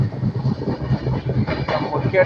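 Heard from on board, the Nanded–Visakhapatnam weekly special passenger train runs through Kumri station without stopping, with a loud, steady rumble of wheels on rails and rhythmic clickety-clack.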